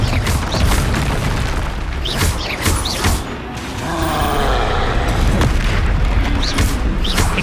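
Confringo blasting spells from Hogwarts Legacy go off in repeated booming explosions with crashing debris and whooshing bursts, loud and near throughout, each blast followed by rumbling impact.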